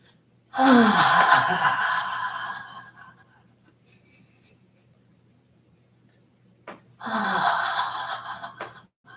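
Two long, breathy exhalations out through the mouth during a qigong warm-up, close and loud, each one tapering off, with a quiet pause between them.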